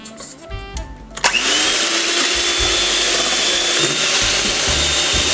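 An electric mixer whirs loudly and steadily through pumpkin cake batter flavored with vanilla, starting abruptly after a second of quieter handling clatter, close and continuous with a rough grinding edge.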